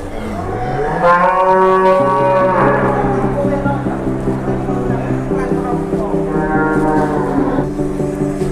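Several cattle low and moo close by at a large livestock market in Boyolali, Indonesia, their deep calls overlapping almost continuously amid general market background noise.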